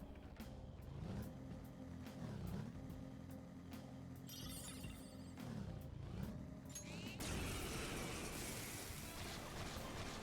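Car engine driving in the Persona 5 video game, a steady low hum with shifting pitch under game music, followed by a louder burst of noisy rushing sound near the end.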